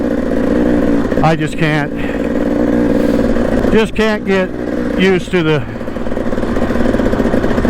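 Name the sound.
four-stroke dirt bike engine riding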